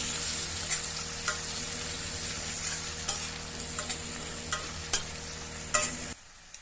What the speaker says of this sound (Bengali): দিয়ে দেবো কেটে রাখা পেঁয়াজ। পেঁয়াজটা দিয়ে নাড়তে থাকবো।